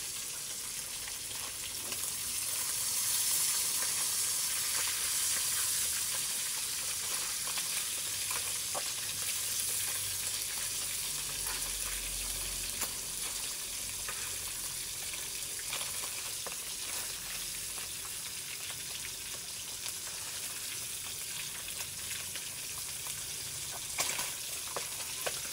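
Fish frying in a pan of hot oil gives a steady, dense sizzle that runs unbroken throughout, close and fairly loud, with faint clinks now and then and no talking.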